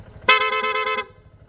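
A low-tone aftermarket rapid horn fitted to a Honda Giorno scooter gives one loud, close, buzzing blast of under a second, with faint engine idle before and after.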